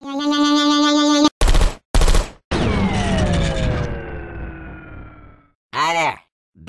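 Turret fire in the video game Portal 2: a loud close burst of rapid machine-gun shots, a sharp clatter and a long descending metallic whine, then a short warbling electronic sound near the end, with game voices around the gunfire.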